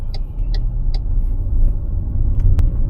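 A car driving through the city streets of Korat, Thailand, giving a steady low engine and road rumble from inside the cabin, with a few faint ticking sounds over it and no talk.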